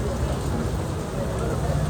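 Steady rain hisses continuously across the clip, a dense even wash of falling water with no voices standing out.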